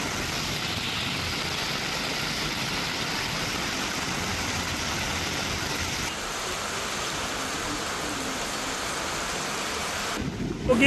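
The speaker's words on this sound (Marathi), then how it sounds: "विविध भागात विजेच्या कडकडाटासह मुसळधार पावसानं हजेरी लावली" Heavy pre-monsoon rain pours steadily over Pune's Bhor area, a dense continuous hiss with no distinct thunder clap, dropping slightly in level midway and ending with a brief louder rustle.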